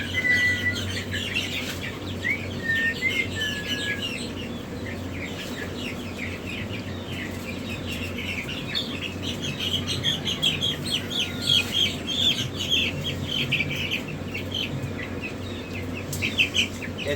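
Young chickens and Bobwhite and Jumbo quail chirping together inside a hatchery, a busy, continuous chorus of high peeps and tweets over a steady low fan hum, with no voices.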